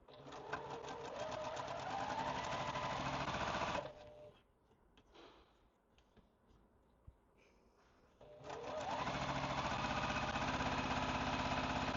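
A sewing machine with a quarter-inch foot stitches quilt pieces in two fast, rapid-clatter bursts that speed up at the start, separated by a quiet pause of a few seconds with faint handling noises.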